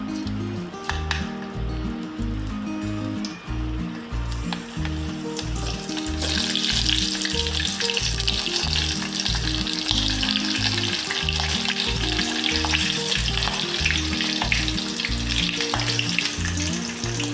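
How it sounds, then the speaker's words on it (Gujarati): Stuffed green chillies frying in hot oil, with a continuous sizzle that grows louder and more crackly after a few seconds and is heard close up over background music, with no talking. "આપણે તેલ ગરમ થઈ ગયું છે અને ભરેલ મરચાં મૂકી દઈશું."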